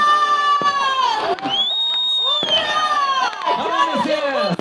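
Loud outdoor New Year celebration in a public square, a crowd cheering and shouting continuously, bright whistling tones rising and falling, with bursts of fireworks going off nearby.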